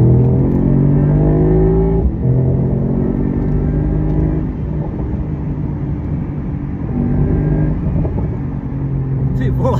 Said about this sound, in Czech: Tohle je Mercedes-Benz SL63 AMG a jdem si zajezdit.